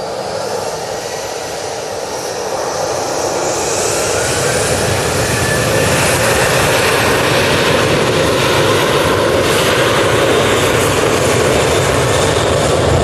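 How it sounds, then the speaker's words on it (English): Boeing 737-800 jet departing Manchester Airport for Palma, its engines building into a loud, steady roar that swells and holds for the whole stretch, with no talk over it. "Off to Palma de Mallorca. Using the 737-800."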